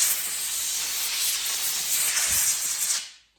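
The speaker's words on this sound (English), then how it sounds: "And then have a air compressor" An air compressor nozzle blows debris out of a camper's front window frame, a loud, steady hiss of rushing air that holds for about three seconds before cutting off abruptly.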